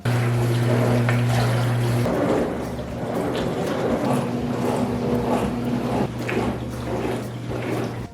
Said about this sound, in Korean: 먼저 급수 시에는 위니아가 51dB 정도로 가장 컸으며